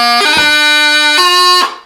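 A doubling is played with the D grace note on the beat instead of the G, producing a bright, reedy sustained melody broken by fast grace-note flicks, loud and close, stopping abruptly at the end.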